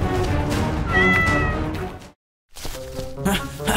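Loud, drawn-out meows from a giant cat in a cartoon-style Spider-Man story, two clear cries separated by a short pause, with people talking over them.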